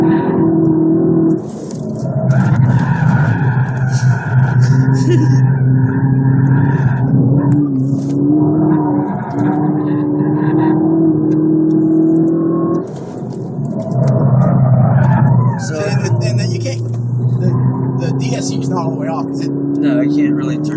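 Mazda3 with 2.5 engine, Corksport intake and Racing Beat exhaust driven hard on a track, revving rises and falls through gear changes with sharp intake and exhaust tones, heard from inside the cabin.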